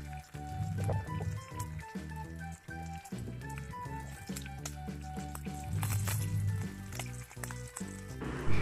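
Prawn lollipops fry in a pan, a steady sizzle running beneath a louder rhythmic, tonal musical backing throughout.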